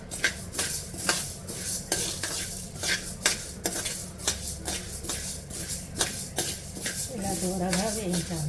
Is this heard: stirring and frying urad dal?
yes